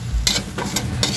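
Stir frying of banana heart, pumpkin, onion and sardines in a pan, with short repeated bursts of scraping and stirring over a steady sizzle, close and loud, with no voices.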